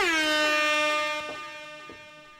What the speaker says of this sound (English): and then the air horn